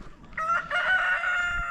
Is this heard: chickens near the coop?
yes